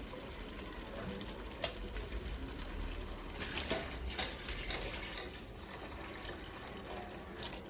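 Quiet trickling and splashing of tamarind water being poured into a curry, faint and steady with small splashes scattered throughout.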